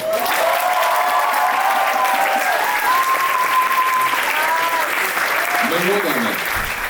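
Sustained applause from a concert audience, a dense steady wash of clapping lasting throughout, with faint tonal voices or whistles over it.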